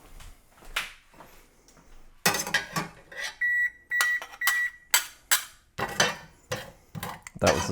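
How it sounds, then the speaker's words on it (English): A kitchen oven signals it has finished preheating to 400 degrees with three short, clear electronic beeps, heard amid clattering of dishes and utensils during pastry preparation, with no talking. "That was the sound of the oven finishing preheating to"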